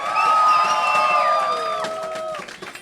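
A large esports event crowd roars and cheers loudly on a countdown cue, a dense sustained wall of shouting voices that swells and then gradually fades and breaks up.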